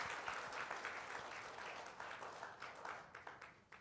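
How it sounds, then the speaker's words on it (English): Applause from an audience at a sales talk, dense continuous clapping that swells then thins out toward the end, heard fairly faint and distant. "we give ATOMY a big round of applause"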